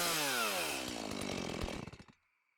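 A battery-powered chainsaw runs loud and close with a rising whine, then cuts out and winds down to silence near the end.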